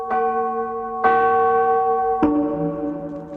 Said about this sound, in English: the Hamelin people ringing the bells till they rocked the steeple